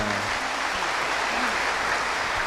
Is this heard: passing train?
no